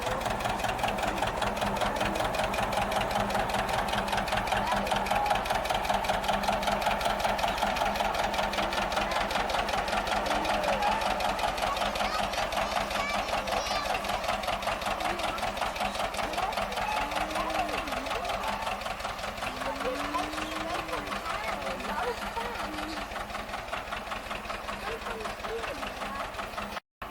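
A John Deere hay elevator runs continuously with a steady rapid mechanical clatter and engine drone, while voices talk faintly underneath.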